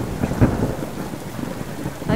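Thunderstorm in the survival game Subsistence: a low rolling thunder rumble over steady rain pattering on surfaces, with no voices.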